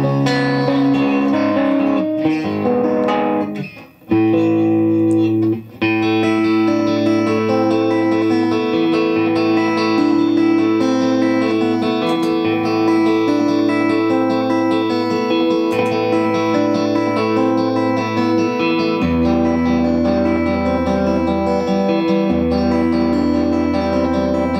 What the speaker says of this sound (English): We hear that distortion, we want to kind of rock out more.